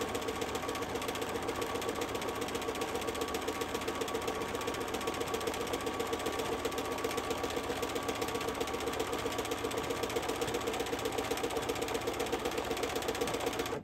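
Sewing machine doing free-motion stitching, a steady fast mechanical chatter that runs continuously and fairly quietly throughout, with no talking.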